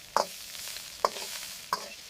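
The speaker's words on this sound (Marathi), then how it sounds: "कढईत तेल घालून लसूण मिरची परतून भाज्या हाय फ्लेमवर पटकन परता" Garlic, chilli and vegetables stir-fried in oil in a kadhai on high flame, three sharp scraping tosses of the spatula over a faint sizzle.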